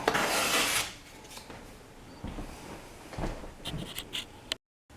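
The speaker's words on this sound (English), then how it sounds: "Then we'll take the sandpaper and smooth that over." Sandpaper smoothing a drywall surface, with one strong rasping stroke at the start followed by quieter, irregular scratchy rubs that fade into a short silence.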